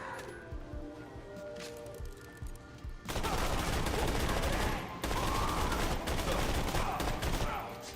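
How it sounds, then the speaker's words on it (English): Legendary Jacobs assault rifle, the Hammerbuster, fired in a video game: a dense, loud burst of rapid shots that breaks off briefly mid-clip and then resumes, running on over a low rumbling backdrop. "Hammerbuster is a legendary Jacobs assault rifle that very simply just is a very strong version of a"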